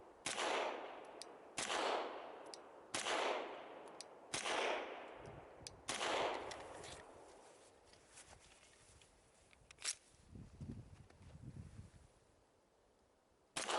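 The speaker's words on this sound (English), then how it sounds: "Here's a great audio example of the Glock's trigger reset" Glock 17 pistol fired in a run of sharp, loud shots at roughly even intervals, each with a ringing tail, then quieter clicks and small handling noises as the trigger resets, with one more crack at the very end.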